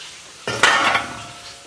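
Peppers and white onions tumble into a hot paella pan with a sudden clattering rush that settles into a short, fading sizzle.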